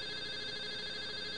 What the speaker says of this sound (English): Answer your damn phone.